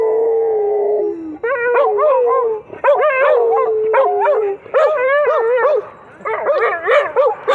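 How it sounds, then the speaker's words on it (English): Several dogs howl together in long, rising and falling wails broken by yips and whimpers, close and loud, in a Levittown, Pennsylvania neighbourhood, set off by passing sirens. "They always howl at sirens and stuff."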